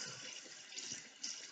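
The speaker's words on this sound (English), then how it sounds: "So then you turn your water on, rinsed off the soap" Water runs steadily from a tap while soapy hands are rinsed under it, a faint continuous hiss with slight splashing variations, heard alone.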